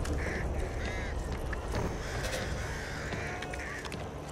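Birds in the video game Back 4 Blood: a flock calling continuously in quacking, cawing bursts over a constant noisy outdoor bed, fairly close and loud, without speech.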